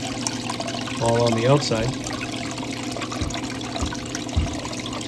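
Soapy water with jet dry added flows through a gold cleanup cone under adjusted pressure, giving a steady low trickle and wash heard close, beneath a man's speech.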